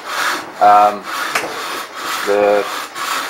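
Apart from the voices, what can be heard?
handsaw cutting wood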